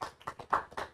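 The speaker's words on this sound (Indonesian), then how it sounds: "Tepuk tangan untuk Profesor Babun Soeharto." A quick burst of several handclaps from a talk-show studio audience honouring a university professor, close and brief, over in about a second.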